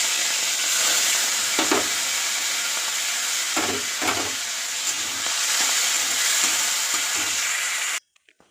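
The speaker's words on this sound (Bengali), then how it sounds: "এবার আমি মাছটা ভেজে নেব।" Prawns frying in hot oil in a pan over a high gas flame give a loud, steady sizzle with a few soft stirring clunks, then cut off abruptly near the end.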